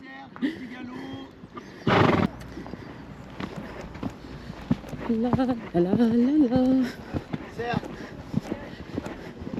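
A horse whinnies loudly several times, with a short burst of noise early on and people talking in the background.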